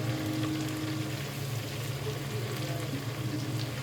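Okra (lady fingers) frying in hot oil in a home kitchen pan, giving a steady, dense sizzle with a low continuous hum beneath, close and unbroken throughout.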